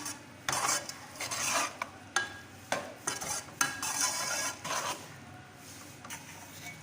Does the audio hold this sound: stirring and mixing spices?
yes